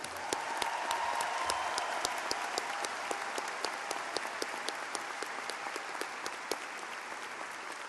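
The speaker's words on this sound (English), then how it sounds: "One more round of applause for our LLM graduates." Audience applause at a law school diploma ceremony for LLM graduates, a steady dense wash of clapping from a large crowd heard from a distance, fairly faint and even throughout with no speech.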